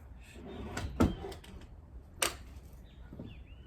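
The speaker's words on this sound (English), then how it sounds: "I'll get the door." A door being opened and closed indoors: a sharp latch clunk, a short rattle, then a second bang as it shuts, fairly close with quiet room tone around.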